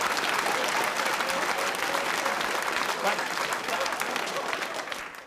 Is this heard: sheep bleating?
no